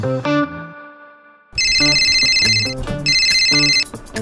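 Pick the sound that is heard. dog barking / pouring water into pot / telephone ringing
telephone ringing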